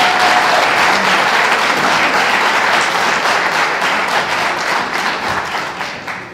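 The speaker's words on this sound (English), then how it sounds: "they deserve a special round of applause" An audience at a national spelling bee championship applauding the teachers, a dense, loud, sustained wash of many hands clapping that tapers slightly toward the end.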